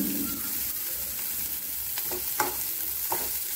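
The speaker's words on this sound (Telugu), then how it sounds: "ముందుగా ఉల్లిపాయలు, పచ్చిమిర్చి వేసి వేయించుకుంటాము." Onions and green chillies fry in a pan for a mixed curry with jackfruit seeds. A soft, steady sizzle carries occasional scraping stirs close by.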